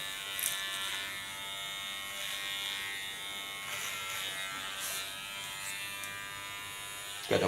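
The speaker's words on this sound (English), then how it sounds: "Coming to the clipper again." An electric hair clipper buzzes steadily up close during an asymmetric haircut with a shaved side undercut, a continuous bright whine that shifts slightly as it moves through the hair.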